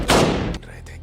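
A sharp, loud gunshot-like blast that decays quickly, followed by a few fainter thumps, all close and abrupt.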